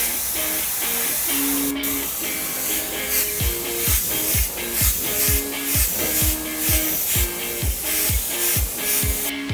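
An airbrush hisses steadily as it sprays paint during a short warm-up, a broad continuous rush close by. Repeated sharp bursts and clicks sound over it at a fairly regular rhythm.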